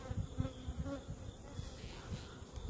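Honey bees buzz continuously around an open hive during beetle treatment, a close, dense, low hum with fluctuating intensity.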